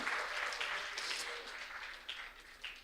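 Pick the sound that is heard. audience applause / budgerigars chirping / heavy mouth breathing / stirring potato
audience applause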